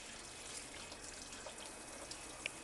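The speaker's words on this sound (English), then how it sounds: "Rinse it off." Tap water runs steadily into a sink as something is rinsed off under it, a soft continuous splash with a few small clinks, close by and without speech.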